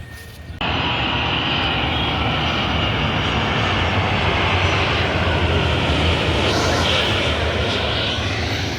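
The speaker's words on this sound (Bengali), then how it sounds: "সিভিল এয়ারলাইন্সগুলো এখন ল্যান্ডিং শুরু হয়ে গেছে" A civil airliner's engine roar sets in abruptly as it lands and holds loud and steady, a broad continuous rumble with faint voices underneath.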